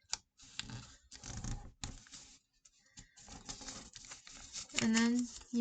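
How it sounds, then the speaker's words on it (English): Origami paper being creased and folded into a hummingbird, giving close, dry crinkling rustles in irregular bursts, with a brief smoother tone near the end. "We're gonna take our 2 flaps and fold them towards that middle line"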